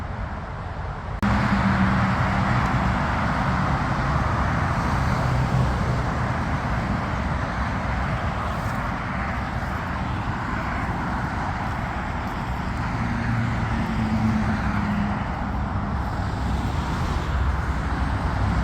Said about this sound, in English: Hope you can hear me all right with the traffic noise in the background.